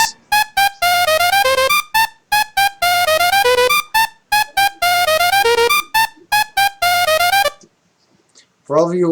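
A bright, buzzy synth lead using the Mother 3 sound font plays a quick chiptune-style melody in choppy repeated phrases with a reverberant tail, followed by a short pause and a voice.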